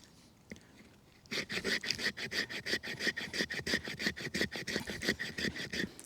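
A Work Tuff Gear Elbrus Gen 2 knife blade scraping along wood, a rapid run of rasping, evenly spaced strokes up close after a quiet start, loud and alone.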